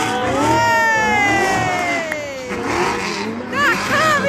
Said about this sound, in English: That car is too noisy!